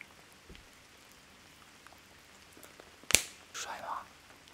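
Steady, faint rain hisses in the background of an ASMR cosmetics review, with a sharp close tap and a brief breathy rustle rising over it near the end.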